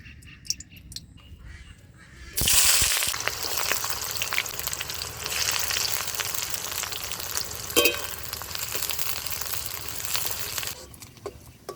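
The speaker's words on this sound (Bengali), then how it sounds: "এদিকে বেরেস্তা তো ভাজা হচ্ছে" After a quiet start, a sudden loud sizzle erupts as sliced onions hit hot oil in a wok, frying steadily into crisp fried onions with stirring scrapes before fading at the end.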